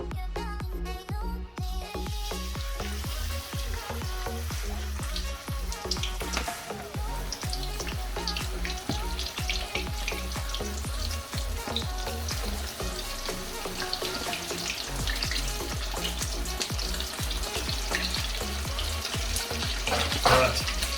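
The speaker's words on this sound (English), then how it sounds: "we are going to be shallow frying these chicken pieces" Chicken pieces shallow fry in hot oil, a dense continuous sizzle and crackle heard near and loud throughout, with occasional utensil clatter.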